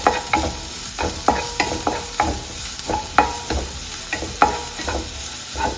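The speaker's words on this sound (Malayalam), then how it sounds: "നന്നായിട്ടൊന്ന് ഇളക്കി കൊടുക്കാം." Chopped vegetables sizzle in ghee in a pan over a high flame, with a steady frying hiss broken by regular clattering strokes of a spoon stirring, roughly one scrape per half second.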